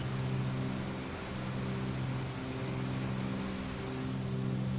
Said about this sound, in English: Okay, the engines are still a little bit too loud.